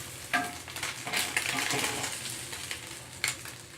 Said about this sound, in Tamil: அந்த எண்ணெய் எல்லாம் கையில் தெரிக்கிறது.